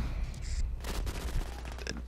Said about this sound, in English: I use this SMG like it's an assault rifle.